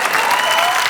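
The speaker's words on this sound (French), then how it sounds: "Applaudir." Studio audience applauding throughout a French talk-show taping, a dense, steady wash of clapping at close range with no gaps.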